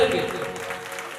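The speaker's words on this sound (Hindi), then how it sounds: "ताली बजा के दोनों हाथ ऊपर करके" Audience applause at a Shrimad Bhagavat Katha religious discourse in Rajim, a dense, steady burst of many hands clapping with a sustained musical tone underneath, loud and close throughout.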